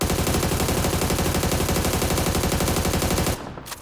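Rapid automatic gunfire rattles in a fast, even burst inside a multiplayer shooter video game match, then cuts off abruptly near the end and leaves quieter background sound.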